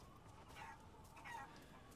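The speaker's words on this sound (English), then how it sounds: "Chickens!" Chickens cluck faintly in the Resident Evil Village video game, two or three soft calls set against a quiet game ambience, with no speech.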